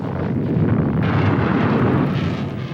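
Archival recording of American tactical airstrikes at Khe Sanh during the Vietnam War siege, a sustained loud rumbling roar of explosions with a surge about a second in, dense and continuous.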